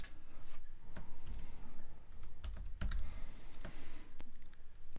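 Computer keyboard keys tapped for Pro Tools editing shortcuts while working on snare hits, a steady run of close, crisp clicks and taps with a few heavier key strikes.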